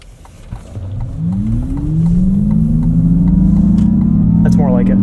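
A 2024 Acura ZDX Type S electric SUV, about 6,000 pounds, accelerates hard in sport mode. A rising whine climbs steadily over a loud, sustained road and motor rumble heard from inside the cabin, with a voice briefly talking.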